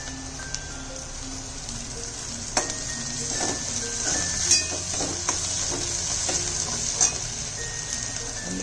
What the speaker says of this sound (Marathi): थोडी कोथिंबीर घालते फोडणी.